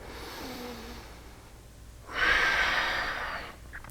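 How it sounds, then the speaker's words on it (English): Nasal breathing during a yoga pose: a softer inhale, then a longer, louder rushing exhale through the nose, close and intimate with no talking. "focus on breathing in and out of your nose"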